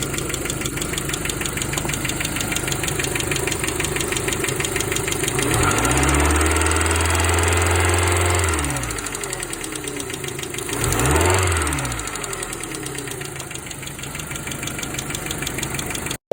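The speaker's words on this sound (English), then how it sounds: "K-series engine, and that sounds exactly like my car" A car with a Honda K-series engine runs at a steady idle, played back from a recording, with a couple of brief swells in revs rising over the low, rough rumble.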